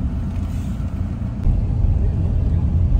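Steady low rumble of road traffic on a Manila street, cars and heavier vehicles passing close by in a continuous drone with no voices.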